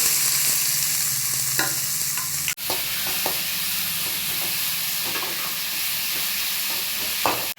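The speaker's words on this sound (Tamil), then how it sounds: "எண்ணெய் சூடானோன்னு நறுக்கி வச்சுருக்க வெங்காயத்தை சேர்த்துக்கலாம்." Chopped onions sizzle and hiss steadily in hot oil in a kadai, with scattered scraping clicks of a spoon stirring them throughout.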